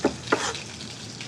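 Garlic cloves, smashed and roughly chopped, drop into a pan of frying vegetables for a duck ragu, giving a couple of brief stirring scrapes over a steady close sizzle.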